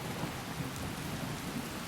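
Steady rain with a low rumbling thunderstorm in Skyrim, a dense continuous hiss over a deep rolling boom, with no talking.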